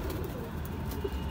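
Pigeons cooing at a home loft where two breeds are crossed, soft low burbling coos close by over a busy background.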